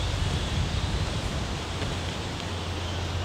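Strong wind buffeting outdoors during bushcraft tinder making, a steady loud roar with low rumble across the whole stretch and no voices.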